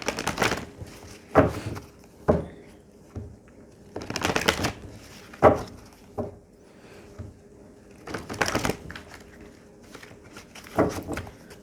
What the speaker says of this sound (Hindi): मैंने शफल कर लिया है।